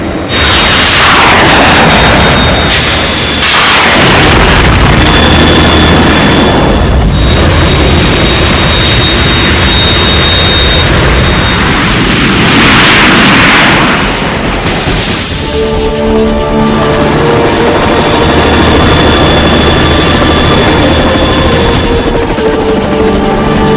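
Harrier jet roaring overhead amid heavy explosions in Metal Gear Solid 2, a loud continuous mix of engine rumble, booms and mechanical clatter sustained for over twenty seconds without talking.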